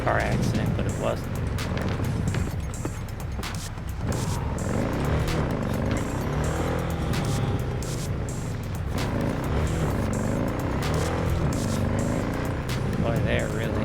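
A car driven through Night City in a video game gives a steady engine drone and road noise, with people talking loudly over it throughout.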